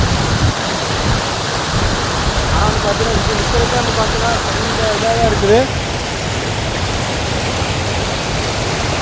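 Steady, loud rush of a waterfall pouring down on Kondarangi hill near Theni fills the whole scene, with someone talking over the constant roar.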